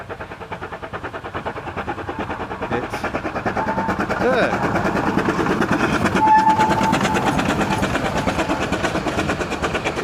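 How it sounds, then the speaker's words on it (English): A 1920s steam locomotive passes close by, its rhythmic chuffing and rolling wheel clatter building in the middle and staying loud, with a brief whistle-like tone and a short spoken remark. "the steam train's coming"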